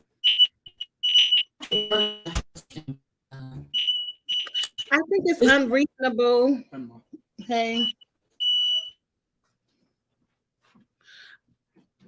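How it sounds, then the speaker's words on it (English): A household smoke detector goes off with repeated piercing high beeps in short bursts, heard close under an excited conversation between a man and a woman, then trails off into quieter, sparse chirps. "What's that? Your smoke detector?"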